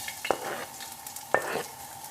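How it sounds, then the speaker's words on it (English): Garlic and chili frying in a pan for Thai fried rice, a soft, steady sizzle with two brief scraping stirs, close and with no voices. "Garlic, it should be strong bubble."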